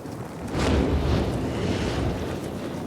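Strong wind blows through an outdoor area in the video game Dying Light 2, a steady broadband rush that swells early and then holds loud and constant with no voices.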